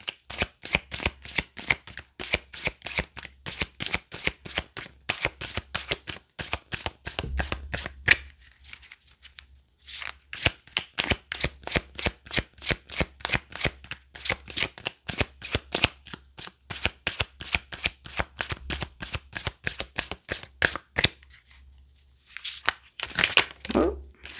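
A deck of tarot cards is shuffled in long rapid runs of crisp riffling flicks, close and fairly loud, broken by a few short pauses, with a voice speaking briefly.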